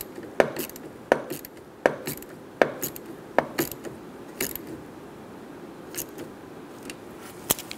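A ratchet wrench clicks in short repeated bursts while snugging down the negative battery terminal on a 2014–2018 Chevrolet Silverado 1500 5.3L, each pull giving a quick sharp rattle with brief pauses between, close and clear.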